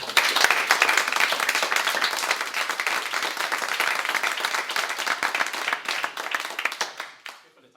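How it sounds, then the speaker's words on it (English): An audience at a HomeKit tech talk breaks into dense, steady clapping that holds evenly for several seconds and then fades out quickly at the end. "let's give Rolf a round of applause."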